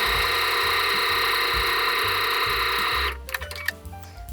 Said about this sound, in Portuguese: Tomo conta aqui para ver se esse forro não vai ser pregado junto, tá? E passo uma costura.